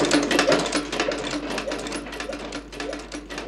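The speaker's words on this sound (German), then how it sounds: "anschließend auf der Nähmaschine gesteppt." A sewing machine stitches leather shoe upper parts in a shoemaker's workshop, a close, steady and rapid mechanical chatter with an even rhythm and no voices.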